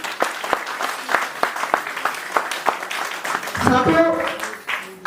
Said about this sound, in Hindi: सारे लोग हम चाहेंगे अपने लिए एक बार जोरदार ताली हो जाइए